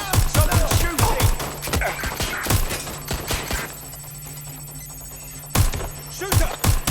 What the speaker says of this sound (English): Shots fired! Shots fired! Engaging the hostile.